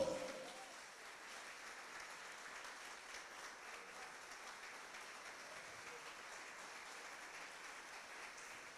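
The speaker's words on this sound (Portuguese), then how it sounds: "Aplaude ao Senhor." Applause from a church congregation during a Portuguese-language sermon at a religious congress, a steady broadband wash of clapping filling the whole stretch at moderate, fairly distant level with faint voices mixed in.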